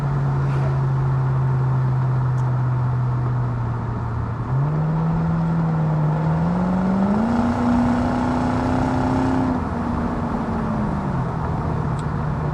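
A 2003 Ford Mustang Mach 1 with a 4.6 V8 and automatic transmission accelerates from inside the cabin, engine note holding steady, then rising in stepped pulls as the gearbox downshifts, before easing back.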